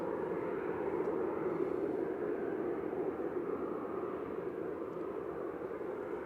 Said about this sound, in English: This is Ryanair heading off to Belfast. 737-800 GRUKA, flight 191.